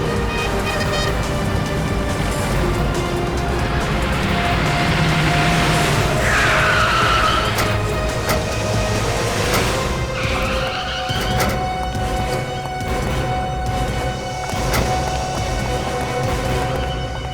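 A car swinging through a fast U-turn, tires squealing and skidding across the road with a rising engine roar, loud and close, followed by continued revving as it speeds away.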